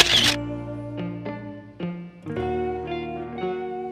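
A camera shutter sound effect in a Roblox BedWars game: one sharp, bright click at the very start, followed by sustained background music notes.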